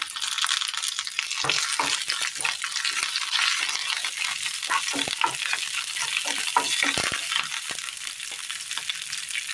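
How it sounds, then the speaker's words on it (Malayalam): Curry leaves hit hot oil with a pinch of fennel in a pan, giving a steady crackling sizzle broken by sharp pops and scraping stirs, close and fairly loud with nobody talking. "ഇതിലേക്ക് കറിവേപ്പില ഇട്ട് കൊടുക്കാം."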